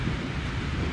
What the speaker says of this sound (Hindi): ये बारिश देखो, बारिश हो रही है भाई प्रॉपर वाली